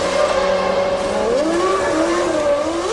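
A 1997 Formula 1 car howls into the pit lane, its high engine note rising and shifting pitch as it slows and revs, loud and close with no talk over it.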